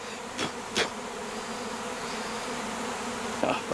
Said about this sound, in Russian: Меня пчелы атакуют.